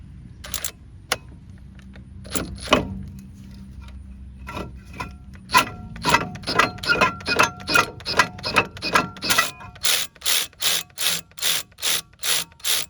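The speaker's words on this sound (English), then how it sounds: "you want to just get it loose with your ratchet here" A hand ratchet loosens brake hose bolts on a 2001-08 Ford Escape or Mercury Mariner, giving a series of sharp close clicks that start sparse and settle into a fast, even rhythm.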